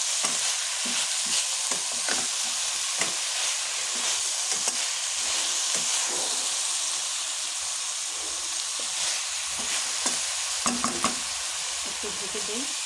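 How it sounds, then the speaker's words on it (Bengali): Vegetable curry frying and being stirred in a pan, with a steady broadband sizzle and repeated scraping stirs throughout, close and fairly loud, with no talk. "আমি সবজিটি ভালোভাবে কষায় নিয়ে বসান, হালকা একটু ঝোল দিয়ে দেবো।"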